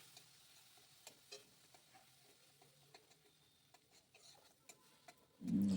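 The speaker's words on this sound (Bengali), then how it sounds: "দিয়ে মশলাটা একটু কষিয়ে নিচ্ছি।" Beans frying in a pan with a ground paste of mustard, poppy seed and green chili, softly sizzling while a spoon stirs and taps in quiet, irregular scrapes, ending in a sudden loud thump.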